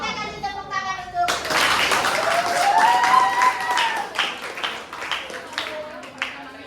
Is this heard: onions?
no